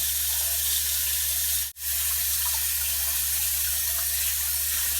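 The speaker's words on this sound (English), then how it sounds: "So we are going to use cold water on the abacha like we did." Cold water running steadily from a tap to soak abacha, dried shredded cassava, a continuous close hiss with one brief break partway through.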